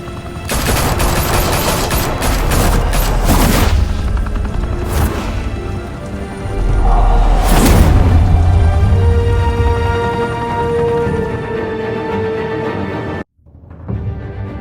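Sustained automatic gunfire from a Gotham shootout in Batman: The Telltale Series rattles loud and dense, with heavy bursts and booms over about thirteen seconds before cutting off abruptly into near silence.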